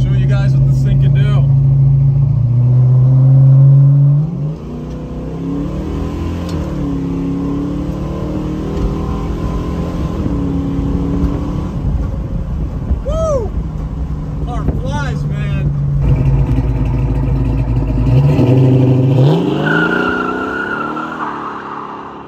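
A 1969 Plymouth Barracuda Formula S with a 383 V8 accelerates hard through the gears, the engine rising in pitch, dropping at each shift and climbing again, loud and close from inside the car, with a voice briefly heard.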